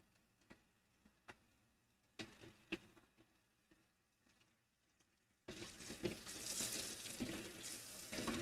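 Water from a tap runs steadily into a sink during washing, a sudden loud continuous gush after several quiet clicks and knocks.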